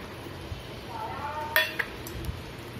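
A spoon stirs gawar bean sabzi with tilkut in a pan, giving a few light metallic clinks and scrapes over a low background hiss.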